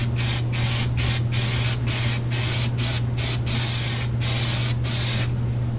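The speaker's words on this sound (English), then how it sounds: "I'm going to spray it on this edge here and on the frame itself at the same time" An aerosol can sprays onto a cardboard edge and the frame of a homemade car dash pad, giving a series of about a dozen loud, short hissing bursts in a quick, regular rhythm over a low steady hum.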